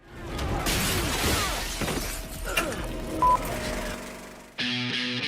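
Stunt glass rigged with pressurized charges bursts apart in a loud, close, crashing shatter with scattered debris noise, followed by a quieter tonal stretch and then music.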